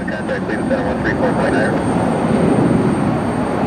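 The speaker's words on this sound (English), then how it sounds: "Clearly a repositioning flight for our Exojet here" Jet aircraft on a repositioning flight at Cleveland Hopkins Airport, a steady broad engine roar holding loud and even throughout, fairly close.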